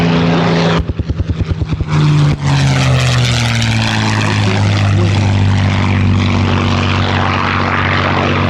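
A P-51H Mustang's Packard Merlin engine roars loudly and steadily at an airshow, with a sputtering start before settling into a strong, continuous drone.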